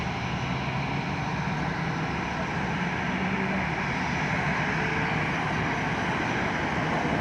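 An airliner at Montego Bay, Jamaica, rumbles steadily on runway 25, a broad continuous engine roar at moderate distance without interruption.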